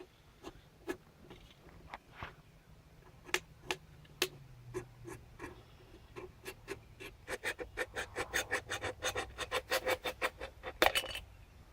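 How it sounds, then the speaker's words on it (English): A pocket knife punches into a tin can, making sharp metallic clicks and taps. They start sparse and slow, then speed up into a dense run of close scraping strikes near the end. "Get your first hole punched in there."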